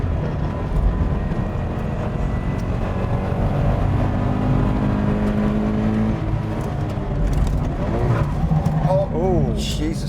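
A manual car revs hard as throttle blips are stabbed in under braking, loud and close, with the engine pitch climbing and dropping in quick swoops near the end while someone talks over it.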